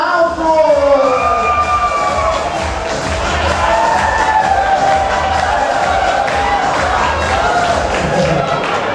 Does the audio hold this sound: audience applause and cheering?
yes